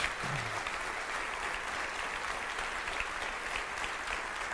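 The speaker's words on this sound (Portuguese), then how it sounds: "Você pode aplaudir mais forte ao Senhor?" A church congregation applauds during a Sunday morning service, sustained loud clapping from many hands forming a dense, even roar that holds steady throughout.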